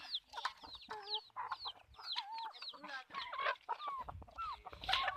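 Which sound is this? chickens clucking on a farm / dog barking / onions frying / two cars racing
chickens clucking on a farm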